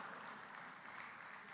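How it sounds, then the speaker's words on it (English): Applause from an audience welcoming dignitaries at a UNESCO world heritage conference in Bhopal, a steady dense wash of clapping, fairly quiet and even throughout, with no talk over it. "Let us have a huge round of applause for all the dignified guests."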